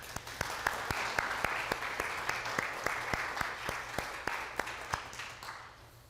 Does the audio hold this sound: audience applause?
yes